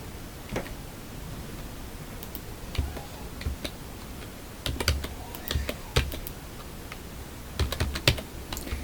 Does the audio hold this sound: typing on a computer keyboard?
yes